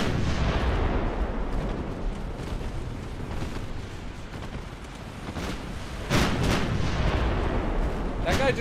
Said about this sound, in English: I just got hit with a torpedo.